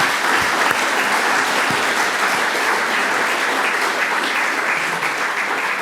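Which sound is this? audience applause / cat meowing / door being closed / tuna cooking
audience applause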